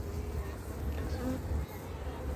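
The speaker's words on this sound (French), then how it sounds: "Voilà, il y a des jeunes abeilles dessus." Honeybees buzz steadily around a brood frame lifted from a hive on a wet spring day, a dense continuous hum close by, with no talking.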